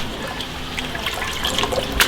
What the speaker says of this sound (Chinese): 用清水清洗一下， 鱼片清洗一下捞出来，沥干水分。